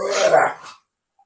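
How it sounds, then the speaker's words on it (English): A pet dog gives one loud, close bark indoors during a live online chat, then silence follows. "That was my dog."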